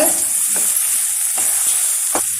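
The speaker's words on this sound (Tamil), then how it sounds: "பொடியாக கட் பண்ண கொத்தமல்லி இலைகள் எல்லாம் சேர்த்து நல்லா கலந்து விட்டுருங்க" Rava idli masala being mixed with finely chopped coriander leaves in a pan, giving a loud, steady hiss with three distinct scraping strokes spaced about a second apart.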